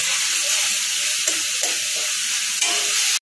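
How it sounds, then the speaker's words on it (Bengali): Spice paste sizzles steadily in hot oil in a pan while it is cooked down for a jackfruit and prawn curry. A constant loud hiss carries a few soft scraping stirs, with no talk. "মশলাটা ভালো করে কষাবো, মিনিট 5 সময় ধরে মশলাটাকে ভালো করে কষিয়ে নিতে হবে"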